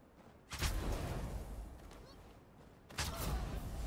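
Gunfire in the video game Darwin Project: two sudden bursts of shots, each followed by a rough, noisy decay, fairly close and moderately loud.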